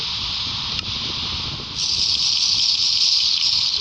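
Steady rain falls in a Minecraft world, a continuous hiss that swells slightly louder partway through and runs alone with no talking.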